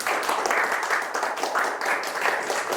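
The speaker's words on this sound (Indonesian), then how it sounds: "Mari berikan tepuk tangan yang meriah untuk Ibu Wulan dan para narasumber hari ini" Audience applause at a healthy lifestyle talk event, with brisk, even clapping from a modest crowd, close and steady for a few seconds, and no voices.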